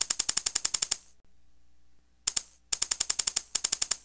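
A looping studio beat in FlyLoops with grouping turned up, playing fast clusters of sharp percussive hits in quick bursts, several beats in a row. The bursts are separated by brief quiet gaps with a low hum underneath.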